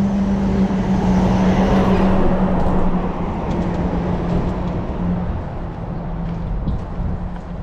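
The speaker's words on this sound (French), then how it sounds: "Passage de camion." A truck passes along a departmental road through a small village street in the French countryside, its loud broadband rumble peaking early and then fading steadily as it moves away, with no voices.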